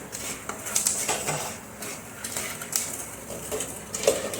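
A covered pot of masala popcorn being shaken, with maize kernels inside, giving irregular metallic rattles and clinks of the lid and pan at close range, with scattered pops.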